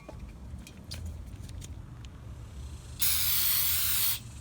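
Brake cleaner sprayed onto a Honda Civic Si driver-side CV axle, one loud close hissing burst of about a second after some faint handling clicks.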